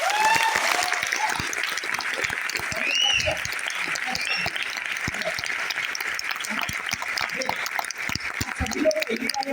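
Audience applause at a business plan meeting in Kalyan, steady dense clapping from a crowd lasting throughout, with people talking faintly underneath.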